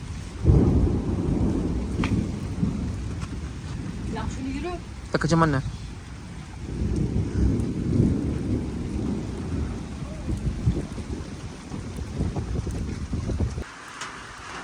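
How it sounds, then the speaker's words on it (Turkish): Steady heavy rain roars throughout with a low rumble of thunder beneath, in a garden in Zonguldak, while people talk close by over the downpour. "Kuvvetli yağmur geldi"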